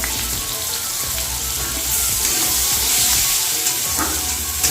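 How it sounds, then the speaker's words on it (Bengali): Chopped onion and green chili hit hot oil in a frying pan, producing a loud, dense, continuous sizzle like heavy rain, steady and close throughout with faint stirring beneath and no speech. "তো আমি এখানে পেঁয়াজ কুচিটাও দিয়ে দেব আমি এখানে কাঁচা লঙ্কাটা সেটাও দিয়ে দেবো"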